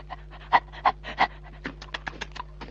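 A dog panting in quick bursts, several louder breaths early then a run of lighter rapid pants, close by with a faint steady hum underneath and no talking.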